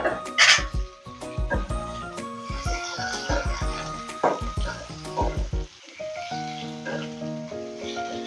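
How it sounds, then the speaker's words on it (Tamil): Vegetables sautéing in oil for a Tamil prawn curry, a soft sizzle broken by repeated stirring clinks and scrapes of a spoon against the pan, close and fairly quiet. "இது கொஞ்சம் எண்ணெயிலே கொஞ்சம் வதங்கட்டும்."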